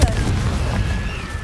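A Confringo fire-blast spell cast in the Hogwarts video game erupts as a dense, rumbling boom that rolls on steadily without fading, loud and close throughout.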